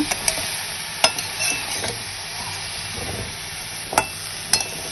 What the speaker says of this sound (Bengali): কিছুক্ষণ নেড়ে নেব